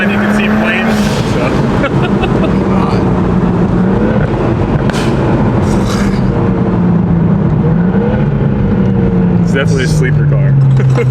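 A single-turbo N54 BMW 135i fitted with a Valvetronic Designs valved exhaust drones loud and close, its pitch rising and falling through revs with a few sharp pops, while voices talk over it.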